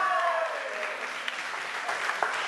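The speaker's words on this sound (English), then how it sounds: "Give him a round of applause." Audience applause at a hypnosis stage show in Dubai, a steady dense wash of clapping that holds evenly throughout with a few sharper individual claps near the end.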